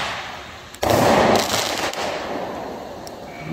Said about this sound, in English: they got more money than me to burn on firecrackers